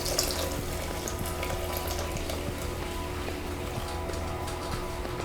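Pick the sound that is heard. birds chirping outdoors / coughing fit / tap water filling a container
tap water filling a container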